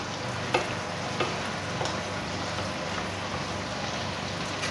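Chinese noodles with a splash of soy sauce fry and brown in a pan, giving a steady, even close sizzle with a few faint utensil taps and no talking.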